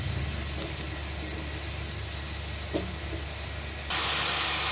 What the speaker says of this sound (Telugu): ఇప్పుడు తగిన ఉల్లిపాయలు వేసి వేయించాలి